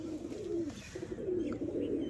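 Pigeons coo softly in a low, repeated murmuring warble, several close birds calling in overlapping phrases against a quiet outdoor backdrop on an overcast, rainy day.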